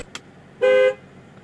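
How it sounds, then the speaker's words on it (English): A single short car horn honk, loud and close, following a faint click in an otherwise quiet room. "I think that honking was really effective."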